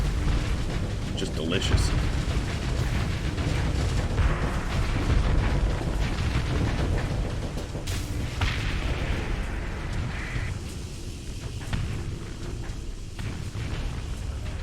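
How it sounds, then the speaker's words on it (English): Ships blowing up in a Starsector space battle: dense, continuous rumbling blasts and booms over loud game noise, with someone talking throughout. "You can keep tossing brilliants at me if you want. I'll keep blowing them up."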